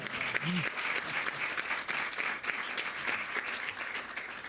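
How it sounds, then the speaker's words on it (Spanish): Sustained applause from an audience at an International Literacy Day gathering in a hall: dense, steady clapping that fills the whole stretch, with a brief voice near the start. "Así que otro aplauso, por favor."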